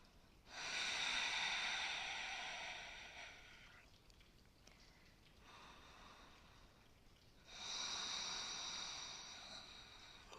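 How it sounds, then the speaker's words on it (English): Deep, slow breaths drawn in and pushed out during a crescent lunge yoga flow: two long, airy breaths, close and fairly loud, separated by a quiet pause, with no talking. "Breathing deeply."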